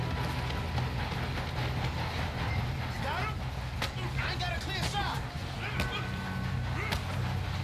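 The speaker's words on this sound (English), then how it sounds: "We have to stop this train." A train in Red Dead Redemption 2 rumbles steadily along the rails with a low continuous roar and occasional metallic squeals, heavy and close throughout.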